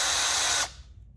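A motorized rifle case trimmer whirs steadily with a bright, high spin as a chamfer tool works the case mouth, then stops abruptly after about half a second, leaving faint room noise.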